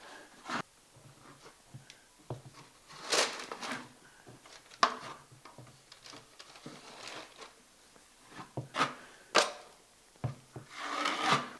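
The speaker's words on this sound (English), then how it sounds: "I'm going to take this mud and a 10-inch knife. So I'm just going to run a very light coat across the whole surface" Drywall mud scraped across a wall with a 10-inch taping knife, soft repeated rasping strokes at close range, quiet and irregular.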